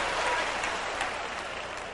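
Church audience clapping hands, a dense, steady wash of applause from many people, moderately loud and continuous for the whole short stretch.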